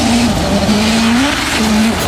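A gold 2009 Ford Focus RS diecast rally car runs down a track, a steady rolling rumble with a tonal whine that dips and rises over about two seconds, close and fairly loud.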